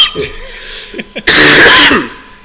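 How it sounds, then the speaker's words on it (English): Brief vocal noises, then a single loud, harsh cough burst lasting about half a second, close to the microphone. "Excuse me a second. I got a cough."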